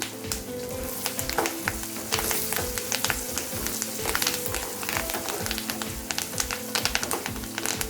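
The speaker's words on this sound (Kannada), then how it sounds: "ಶೇಂಗಾದು ಸೌಂಡ್ ಬರ್ತಾ ಇದೆ" Steady crackling and popping of peanuts frying in hot oil, dense sharp pops over a continuous sizzle, close and fairly loud.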